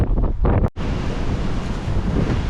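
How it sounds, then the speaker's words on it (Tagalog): Strong wind in New Zealand buffets the microphone in a loud, roaring rush with a brief dip, then a steady blustery blast that continues to the end. "Ang hirap maglakad, ang lakas ng hangin."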